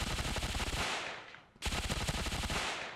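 Rapid automatic fire from a Beretta ARX160 rifle in the video game Ravenfield, a loud close burst of fast shots that trails off, pauses briefly, then resumes at full intensity.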